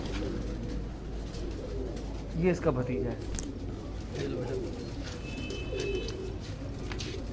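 Pigeons coo softly on a rooftop, low repeated calls under a man's speech, with one louder coo burst midway and general outdoor background hum.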